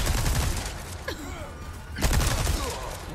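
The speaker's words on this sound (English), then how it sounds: "that gun's vicious." Bursts of gunfire from Resident Evil 4 Remake, a loud sharp volley at the start and another heavy burst about two seconds later, with quieter mechanical game noise between.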